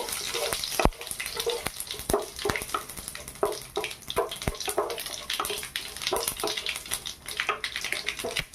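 Dried red chillies, mustard seeds and whole cumin sputter in hot oil for a mango dal, with irregular crackles and pops, uneven splashy sizzling bursts and a few sharp clicks from a utensil.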